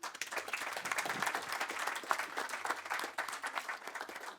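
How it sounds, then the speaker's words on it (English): An audience at a public event on Irish history and legacy applauds steadily, a dense, even wash of many hands clapping that holds at a moderate level for the whole stretch, with no voices over it. "I think you should give them a round of applause"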